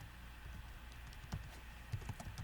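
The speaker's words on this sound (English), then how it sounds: "when you start typing" Faint, soft keystrokes patter on a computer keyboard in an irregular run of light taps, with a few sharper clicks standing out, heard alone in a quiet room.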